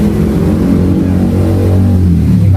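Honda Beat F1 motorcycle engine running, a loud, steady low idle hum with a constant throbbing drone held close to the microphone throughout.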